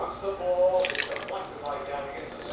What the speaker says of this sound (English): I like getting a little water in here just to thin it out.